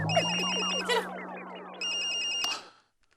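A mobile phone in a pocket plays a melodic electronic ringtone, a rippling run of descending notes over a steady tone, continuing for over two seconds before cutting off into silence.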